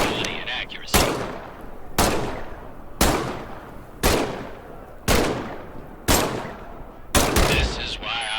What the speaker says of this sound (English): grab the M1 Garand rifle. Fire away.